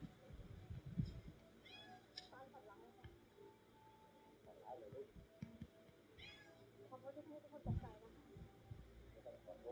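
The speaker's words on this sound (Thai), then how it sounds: "แมว" A cat meows several times in a quiet room, short separate calls spread out over the recording, with faint soft voices nearby.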